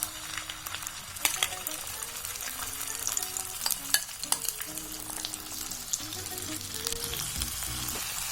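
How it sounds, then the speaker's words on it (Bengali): Green pea paste sautés in oil in a kadai, a faint, steady sizzle with soft crackles and scattered scrapes as it is stirred continuously. "এবার এটা 2-3 মিনিটের জন্য এই তেলের মধ্যে সতে করতে হবে।"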